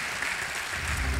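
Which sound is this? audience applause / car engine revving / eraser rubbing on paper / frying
audience applause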